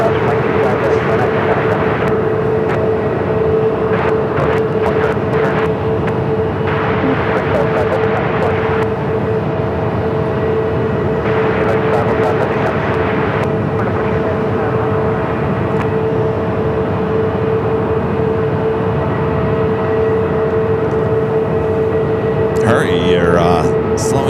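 An American Airlines Airbus A321 airliner at Phoenix Sky Harbor airport roaring steadily as it takes off, a loud sustained engine drone throughout with someone talking over it.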